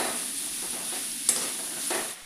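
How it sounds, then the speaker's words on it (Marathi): A utensil stirs puffed rice coated with turmeric in a pan, giving a couple of brief, soft scraping strokes over a faint, quiet sizzle. "लगेचच हे मुरमुरे त्यामध्ये घालायचे. मिक्स करून घ्यायचं"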